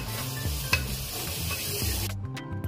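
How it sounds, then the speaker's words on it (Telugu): Onions stir-fried with fresh ginger garlic paste and Kashmiri chili powder for a spicy fish pulusu, with a continuous close sizzle and the rhythmic scrape of a spoon stirring through the pan. "ఫ్రెష్గా చేసి పెట్టుకున్న అల్లం వెల్లుల్లి పేస్ట్ వేసుకొని అది కొంచెం పచ్చి వాసన పోయేంత వరకు కలుపుకుందాం"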